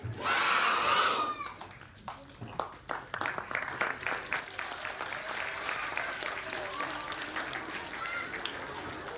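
A school class assembly audience applauds the children, many hands clapping in a dense, steady patter that builds after a loud voice near the start and carries on to the end.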